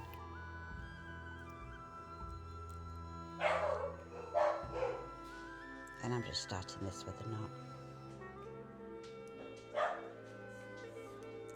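Several dogs barking at something outside, in sharp bursts of two or three yips with a later single bark, somewhat distant and under a person talking nearby.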